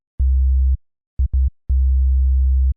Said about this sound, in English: a simple sub-bass on a sine wave pattern that follows the kick and sounds like this.